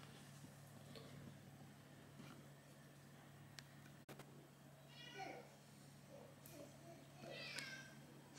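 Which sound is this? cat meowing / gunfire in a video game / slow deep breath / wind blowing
cat meowing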